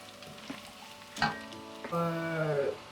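Rice and pilau masala fry together in a pot, giving a faint, close sizzle broken by a few soft clinks and stirring sounds, with a tonal hum running beneath. No talking.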